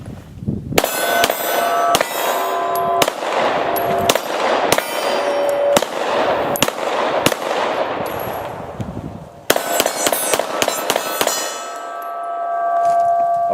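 A Smith & Wesson SD9 VE pistol fired at cans, with about a dozen sharp, loud shots in irregular bursts, each followed by a ringing metallic clang and a short echo.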